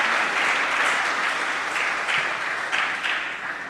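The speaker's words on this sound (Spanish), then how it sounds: "Dale palmas al Señor, sea bendito el nombre de Cristo Jesús para siempre" A church congregation claps together in praise, a full, steady burst of applause with rhythmic accents, fairly close and fading slightly toward the end.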